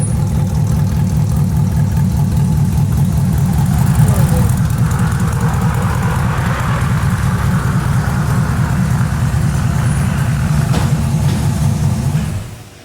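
A Hobbs & Shaw trophy truck on 37-inch tires runs its engine hard with a steady, loud low rumble throughout, close by, fading out at the very end.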